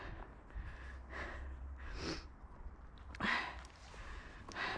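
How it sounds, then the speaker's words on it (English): Heavy, ragged breathing from someone winded after running behind a young horse during long-reining, with sharp breathy gasps and snorts standing out over a low rumbling background. "Apologies for the panting."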